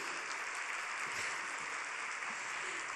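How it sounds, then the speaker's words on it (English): Applause from an audience at a leading women summit, a steady, fairly faint wash of clapping with no talking over it. "a round of applause for him"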